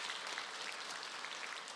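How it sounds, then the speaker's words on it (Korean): Church congregation applauding during a Sunday morning worship service, a steady wash of clapping heard on its own without pauses. "하나님께 영광의 박수 한번 올리도록 하겠습니다"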